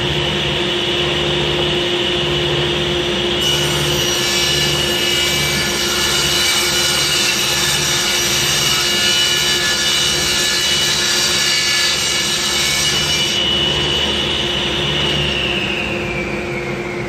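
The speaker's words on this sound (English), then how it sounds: "So I'm ready to make the first cut." A table saw rips through wood at a 60 degree tapered angle, a loud steady whine with the blade spinning up, cutting continuously for about ten seconds, then winding down.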